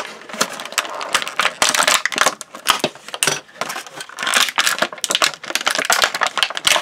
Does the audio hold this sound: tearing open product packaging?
yes